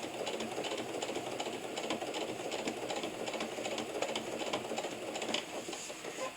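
A sewing machine stitching through many layers of fabric, a soft, steady rapid whirring and clatter at a quiet level.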